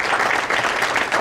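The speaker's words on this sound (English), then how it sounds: "Can we please give them all a round of applause?" A panel audience applauds at a justice advisory council meeting in Midlothian, a brief, even wash of clapping from many hands heard at moderate distance.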